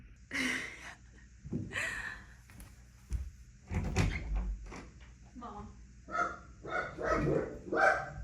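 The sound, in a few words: dog barking as delivery man arrives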